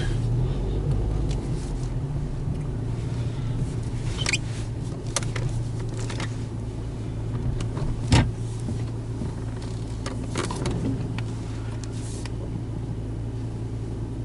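A 2.0T FSI car with a Frankenturbo F23T turbo on a stock tune drives through a residential neighborhood, its engine giving a steady, close cabin drone with light rattles and a brief clunk partway through.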